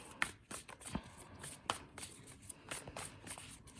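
Tarot cards shuffled by hand indoors, a quiet run of soft riffling, tapping and slapping sounds in an uneven rhythm, close but faint, with no talk.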